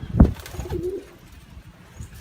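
A Bulgarian Erdemitli pigeon gives a short soft coo close by, preceded by a brief thump or flutter, then the sound fades into quiet.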